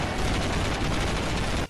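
Dense, sustained burst of gunfire shot into the air, loud and continuous like rapid automatic fire, cutting off abruptly at the end.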